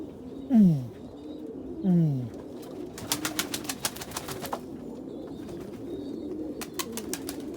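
Reverse wing pouter pigeons give two loud, close, descending coos, followed by quieter rapid clicking and rustling among the birds.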